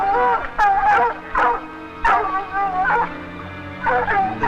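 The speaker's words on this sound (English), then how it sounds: "Drum's deep voice leading the chorus that says they've got him treed" Several hounds bay and yelp in bursts at a mountain lion up a tree, deep and higher voices overlapping in a ragged chorus, close and loud.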